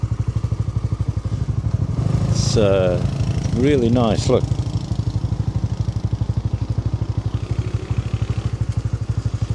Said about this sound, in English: Look, there's a motorbike behind me.